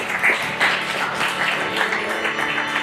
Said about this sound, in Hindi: इस बात पे ताली बनती है।